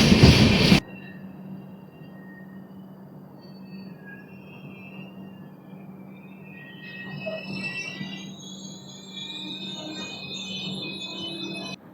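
The Venkatadri Superfast Express 12797 pulls out of Muddanur station with a steady low rumble and clatter, while high wheel squeals rise and grow busier as it gathers pace.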